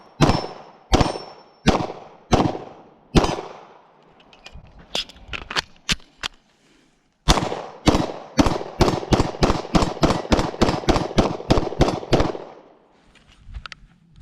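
Taurus G3 pistol fired at targets: a slow run of four spaced sharp cracks, a brief pause with a few smaller pops, then a rapid string of about a dozen loud close shots with fast decaying echoes.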